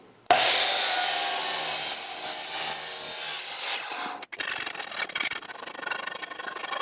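A chop saw fitted with a metal cutting blade cuts short pipe spacers while refurbishing an old dolly, giving a loud, steady grinding hiss for about four seconds, then a brief break and rougher, fluctuating cutting noise.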